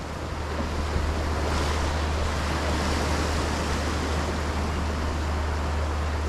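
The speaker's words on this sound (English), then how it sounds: "These waves look like they are just having a field day." Ocean waves crash and wash continuously in a steady, loud roar of surf, with wind buffeting the microphone close by and no voices.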